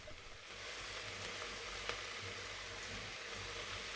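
Vegetables fry in oil and butter with a quiet, continuous sizzle and crackle at a steady level, with a single faint click partway through.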